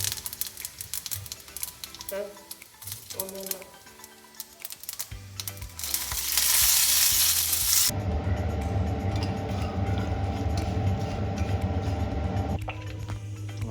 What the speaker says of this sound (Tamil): சில சீரகம் எடுத்து சீரகம் போட்டு